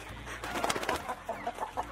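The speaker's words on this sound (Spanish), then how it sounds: "cuántas gallinas" Several chickens clucking softly in short, irregular bursts, with bird calls scattered over a low background hum.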